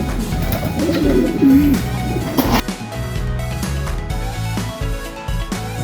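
Pet pigeons coo near their coop as they begin venturing outside, soft repeated low calls under scattered knocks and shuffling sounds.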